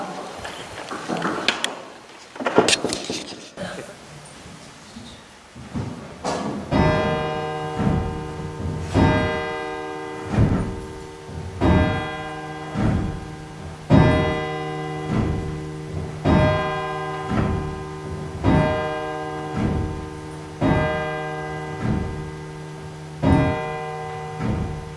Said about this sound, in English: We're now going to toll the bell 100 times in Harry's memory.